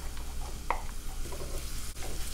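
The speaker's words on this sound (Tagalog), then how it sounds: "Siyempre, magigisa muna tayo ha." Ginger, garlic and onion sauté in a pan, giving a steady, quiet sizzle with a few light stirring scrapes, close by and without talk.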